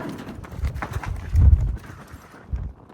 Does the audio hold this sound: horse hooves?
yes